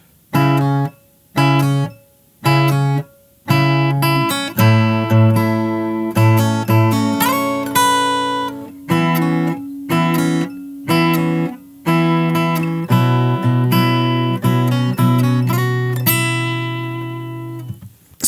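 Fingerstyle acoustic guitar plays the first and second lines of a song's melody in sequence: clipped, separated phrases give way to a continuous run of plucked notes over a bass pulse, close and unaccompanied.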